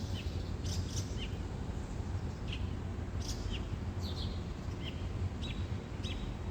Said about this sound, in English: listening to the sounds of the birds.